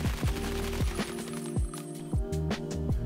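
A 5.56 rifle fires in Escape From Tarkov, with several sharp, close shots spaced in an uneven rhythm over a few seconds. Each report rings out briefly with no talking.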